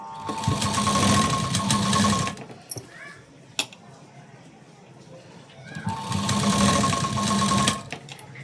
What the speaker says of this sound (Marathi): एकदम खाचेमध्ये शिलाई द्यायची